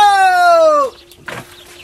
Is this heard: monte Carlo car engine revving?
no